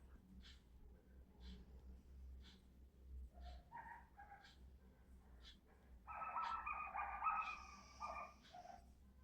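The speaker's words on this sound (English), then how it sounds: "It's dogs going crazy at the neighbors." Dogs bark at the neighbors in a faint, distant run of sharp yaps over a low steady hum, building into a louder cluster of overlapping barks near the end.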